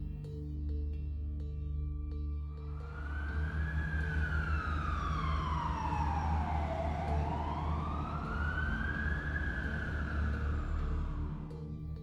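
A police siren wails up and down in slow sweeps, loud and near, over a low rumbling vehicle engine.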